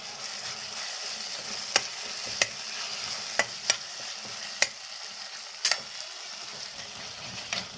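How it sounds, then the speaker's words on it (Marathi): Ginger garlic paste fries with tomatoes for a dry chicken dish, a soft steady sizzle under repeated sharp clinks and scrapes of a spoon stirring against the pan, close and without talk. "आता अद्रक लसूण पण एकदम छान तळून घ्यायचं, कारण त्याचा कच्चापणा गेला पाहिजे"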